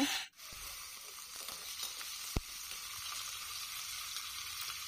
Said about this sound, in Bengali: এদিকে কড়াইয়ে তেল দিয়েছি। এখন কেটে রাখা আলুগুলো দিয়ে দেব।